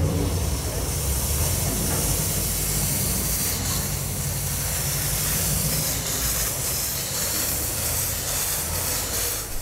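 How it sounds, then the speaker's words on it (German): A 5-inch scale model of a DB class 01 steam locomotive runs under steam, giving a steady, loud hiss and rushing chuff with a continuous low rumble throughout, with no voices. "jetzt bewegt sich die Lok zum allerersten Mal unter Dampf"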